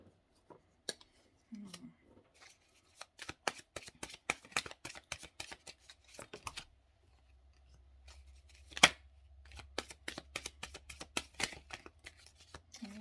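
Tarot cards shuffled by hand up close, crisp rapid riffles and flicks in uneven bursts, with a louder snap partway through and a faint low hum in the background; no talking.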